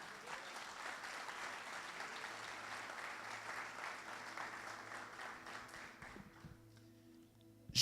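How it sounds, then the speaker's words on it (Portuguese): A church congregation claps in steady applause for several seconds, fairly quiet and even, before it dies away into a brief pause and a sudden louder sound at the very end. "Dá uma salva de palmas para Jesus."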